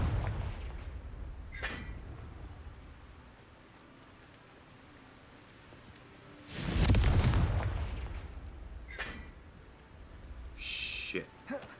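Fiery Confringo spell blasts in Hogwarts Legacy, a few sharp bursts with one big roaring explosion in the middle, set against steady game ambience.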